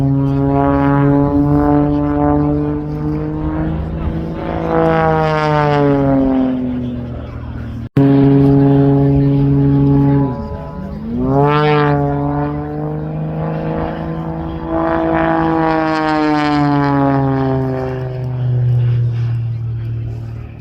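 Unlimited aerobatic propeller aircraft at the RAF Cosford airshow, its engine droning loud and steady, then swelling and shifting pitch through two passes and rolling tail slide manoeuvres.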